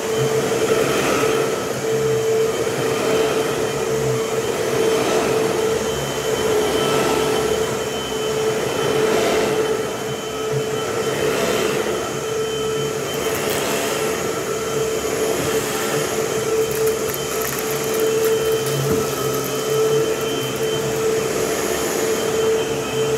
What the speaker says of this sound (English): We're gonna do some vacuuming on the rug.